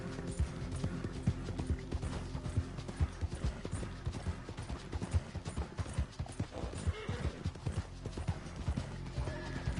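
Horse hooves clip-clop steadily through a Red Dead Redemption 2 scene, with a whinny partway through over a dense, continuous background of game sound.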